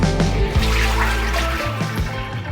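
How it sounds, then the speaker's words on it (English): Water trickles and splashes as the water tank of a La Specialista coffee maker is rinsed out before descaling, a close, continuous dribbling wash with brief drips and sloshes. "I'm going to give it a quick wash before I put in my descaler and my fresh water."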